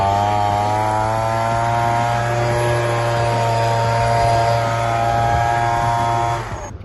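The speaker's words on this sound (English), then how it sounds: "I love using a leaf blower after scraping." A leaf blower clears scraped debris off a roof, its motor roaring loud and steady at close range before dropping away abruptly at the end.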